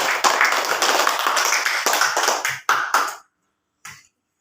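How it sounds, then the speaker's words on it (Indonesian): Classroom applause for student groups, a burst of many hands clapping fairly close for about three seconds, then breaking off into a few scattered claps and a brief final tap. "Dan tepuk tangan untuk semua kelompok yang telah membuat soal."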